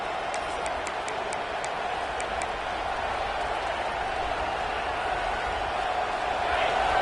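Football stadium crowd at a Notre Dame game roaring steadily behind the defense on third down, a dense, continuous wall of noise that swells slightly toward the end, with scattered sharp claps or ticks early on.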